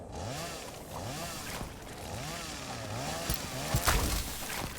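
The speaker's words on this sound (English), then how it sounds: "they don't like the chainsaw" A chainsaw revs in the video game Satisfactory, a steady buzzing motor with rising and falling pitch sweeps running continuously, joined by a few sharp louder hits near the end.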